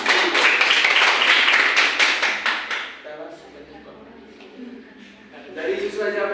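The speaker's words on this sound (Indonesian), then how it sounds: "Oke, tepuk tangan untuk kita semua." Primary school pupils in a fourth-grade social studies class clap their hands in a loud, close burst of a few seconds. It fades into quieter classroom sounds and voices.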